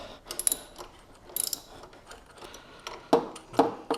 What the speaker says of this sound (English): So let's tighten them back up.